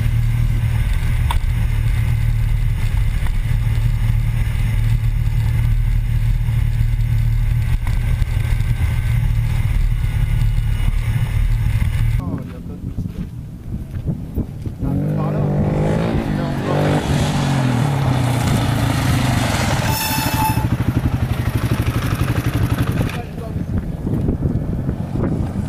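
Can-Am off-road vehicles are driven with a continuous engine rumble under heavy wind buffeting on the microphone. Partway through, the motor noise thins and voices talk over the ride.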